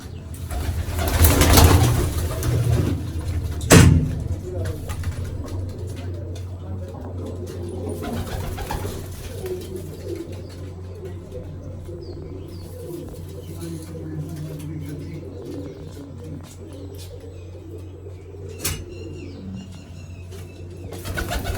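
Pigeons at a loft making soft, low cooing calls, with a few sharp bursts of wing flapping near the start and again later, plus background rustle and distant voices.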